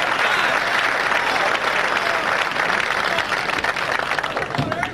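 A bowling crowd at a national championship in Toledo applauds a strike, dense sustained clapping filling the space at steady loudness before thinning slightly toward the end.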